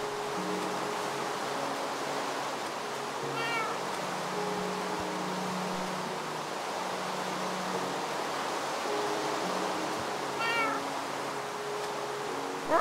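A Minecraft cat meows twice, several seconds apart, each a short rising-falling game sound over a steady background hiss.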